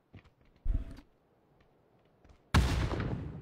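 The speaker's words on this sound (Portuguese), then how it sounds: "granada, mais um." A grenade goes off in a multiplayer battle royale shooter, a sudden loud broadband blast near the end that keeps rumbling, following a few sharp nearby shots or thuds.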